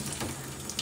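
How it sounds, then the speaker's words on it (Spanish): Hot water runs from a tap in a steady close splashing stream, with a faint hum under it and a brief louder splash at the end. "aquí ya les está saliendo agua caliente."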